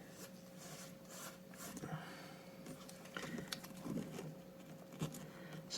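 A blade scraping a GameStop price sticker off folded, weakened paper game cover art gives a steady soft rasping and rubbing texture with small scratchy bursts, close and continuous, with no talking.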